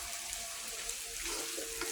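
Potato fries in a pan with a soft, continuous sizzle and light stirring, heard close and fairly quiet with no talking.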